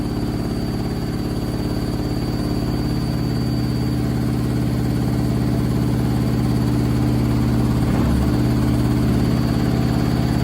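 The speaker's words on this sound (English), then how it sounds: "That's probably from the extreme unbalanced spin" A Candy SmartTouch washing machine in an extreme unbalanced final spin, a loud steady droning hum with strong low rumble and tonal whine, sustained and close, with a brief knock around the middle.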